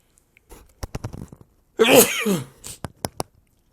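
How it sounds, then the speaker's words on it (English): A person sneezes once, a sharp burst with a sucked-in breath and snort, surrounded by small clicks and breathy sounds. "I think I'm going to sneeze."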